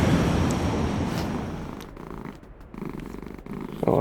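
A house cat purrs steadily and close by, a low continuous rumble that fills the stretch with slight swells and dips, with no talking over it.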